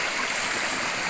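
Steady broadband rush of creek water flowing through a stream among vines and wild trees, continuous and even, moderately loud with no voices.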